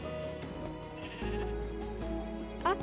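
A sheep in the video game Minecraft bleats, fairly faint, against busy in-game music and ambience.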